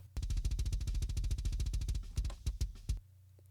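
A metal kick drum captured by a mic inside the drum, with fast machine-gun double-bass hits followed by a few separated thumps, punchy, close and isolated.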